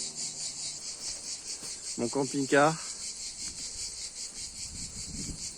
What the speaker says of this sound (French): Au frais des pins chantés par les cigales